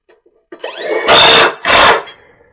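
An impact wrench works on a mid-mount mower: a rising whir, then two loud, close bursts of hammering rattle, each about half a second, separated by a brief gap.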